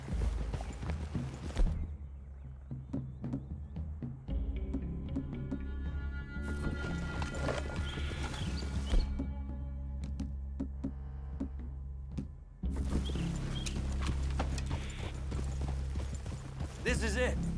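Horse hooves clip-clop in Red Dead Redemption 2 as several horses walk, irregular knocking steps under low ambient rumble and occasional voices, with quieter gaps between louder passages.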